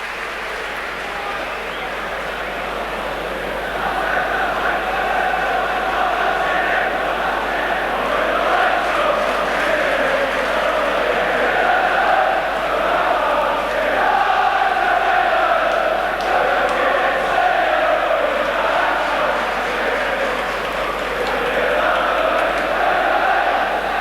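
A large football crowd at Elland Road chants in rhythmic, swelling waves that carry across the stadium, growing louder after a few seconds and holding strong throughout.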